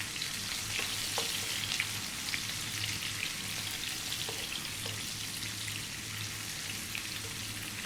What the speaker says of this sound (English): Okay, in goes the onion.